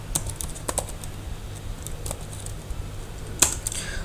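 Keystrokes on a computer keyboard as a command is entered, scattered light clicks with a sharper cluster near the end, close and fairly quiet over a low steady hum.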